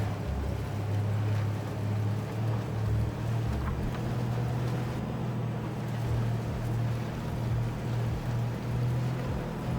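A tank engine in the video game Armored Warfare rumbles steadily as the vehicle drives off. The low, even drone holds for the whole stretch with no talk over it.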